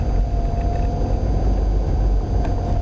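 A car engine idles and hums steadily while the vehicle rolls slowly along, a constant loud low rumble with no variation in pace.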